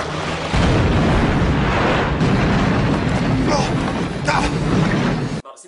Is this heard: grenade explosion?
yes